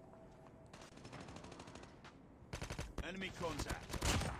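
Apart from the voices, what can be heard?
tap-firing Damascus AK117 gunfire, Call of Duty Mobile video game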